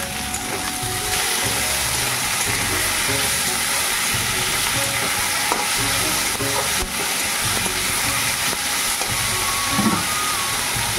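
Onion paste and ginger paste fry in a pan with a dense, constant sizzle, a loud close hiss that stays level throughout with faint scraping from stirring.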